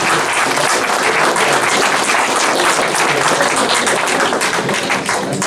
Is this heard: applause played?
yes